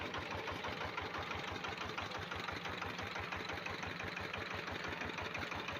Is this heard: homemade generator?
yes